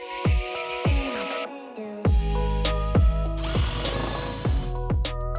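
A power drill drives screws into wood in short, repeated whirring bursts with brief pauses between them, close and loud, with knocks and clicks from the work and no talk.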